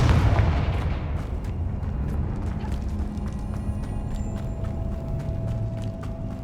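Confringo blasting spell in Hogwarts Legacy detonating with a loud booming burst at the start, followed by a rumbling decay and scattered crackling impacts, sharp hits and a faint tone over a low roar.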